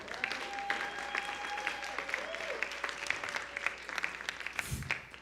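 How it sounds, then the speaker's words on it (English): A church congregation gives a round of applause for the Chunshimon worship team, a full, continuous roomful of clapping with a few sharper claps and a brief thump near the end, no talking over it. "give a round of applause to our Chunshimon worship team"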